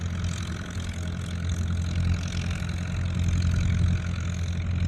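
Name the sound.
car engine as it drives away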